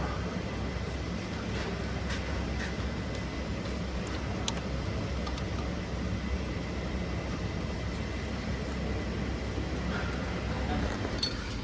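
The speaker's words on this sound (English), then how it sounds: "apologies for the noise guys, it is a busy morning at the VW repair centre" Busy morning background noise fills a Volkswagen repair centre workshop, where a 1.4 TSI Golf is in for a failed water pump bearing. A steady mechanical hum and rumble runs throughout, with occasional faint clinks and taps of tools.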